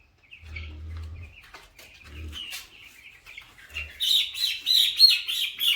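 Broiler meat chickens in a poultry farm give repeated high chirps and peeps, growing louder and busier toward the end, with a few low thuds of handling nearby.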